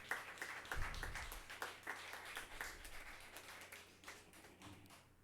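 Congregation at a Catholic Mass applauding in honour of someone's birthday, a steady patter of many hands filling a church, fairly close and continuous, then gradually thinning out.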